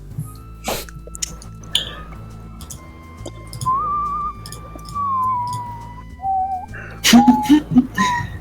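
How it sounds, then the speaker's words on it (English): A person whistles a wavering, sustained tune during a live stream, fairly close and moderately loud, broken by a few short coughs or throat-clearing sounds and small background noises. "We've gone to the whistling aspect of the stream."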